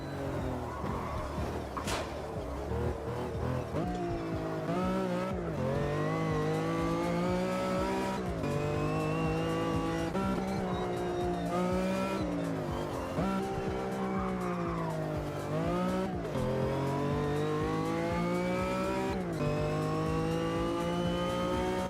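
Lamborghini Diablo engine in the AMS2 racing game, revving continuously as it climbs through gears, each rising whine cut by a shift, with occasional tyre squeal and other cars along on track.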